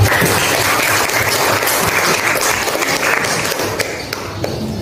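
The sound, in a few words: classroom applause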